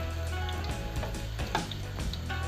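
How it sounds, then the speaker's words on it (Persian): Eggplants frying in hot oil in a home kitchen while stuffed eggplant (karnıyarık) is being made, a steady close sizzle with a few brief louder crackles and spatters, no talking. "دور تا دور بادمجونا رو کامل سرخ کنید"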